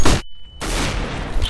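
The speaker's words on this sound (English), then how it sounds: "Throwing a grenade. Throwing flashbang." Grenade and flashbang thrown during a Counter-Strike GO match on a ski lift map: a loud burst, a short near-silent gap, then a sustained roaring blast with ringing tail, no talk.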